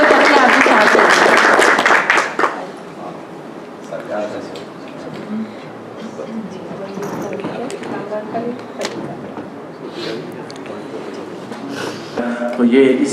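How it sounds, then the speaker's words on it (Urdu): Audience at an Urdu literary gathering in Nottingham applauds Dr. Taqi Abidi: a loud burst of clapping for about two seconds, then quieter room noise and murmuring voices, with a brief swell of clapping near the end. "بھرپور تالیاں ڈاکٹر تقی عابدی صاحب سے"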